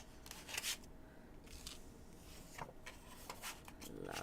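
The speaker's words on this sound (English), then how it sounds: "I want to make sure I'm really shuffling them well." Tarot cards are shuffled by hand in a series of soft riffles and papery rubbing bursts, quiet and close, with irregular rhythm and no talk.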